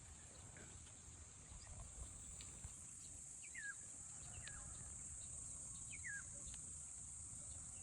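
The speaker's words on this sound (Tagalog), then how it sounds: "puro huni ng ibon ang marinig mo" A few faint bird calls, including crows, chirp at a distance over a steady high insect drone and low rustling background.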